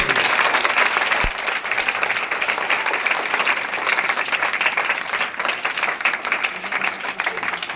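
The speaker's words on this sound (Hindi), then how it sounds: "एक बार जोरदार तालियों से स्वागत करें" Loud, sustained applause from a school audience at an event honouring Durgavati and daughters, a thick wash of many hands clapping steadily throughout with a faint voice underneath.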